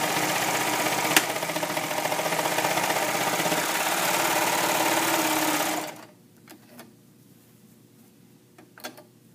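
A serger overlock machine runs fast and steady while stitching a hem band on knit fabric, a continuous close mechanical hum for about six seconds that stops abruptly, followed by a few faint handling clicks.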